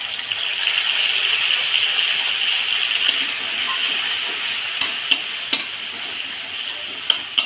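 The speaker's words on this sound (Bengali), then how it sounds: "দিয়ে মশলাটা সুন্দর করে কষিয়ে নেব" Spice paste of ground nigella seeds, green chili, salt and turmeric frying in a pan for fish curry: a steady, bright hiss of sizzling oil with occasional scrapes and taps of a spoon stirring near the end.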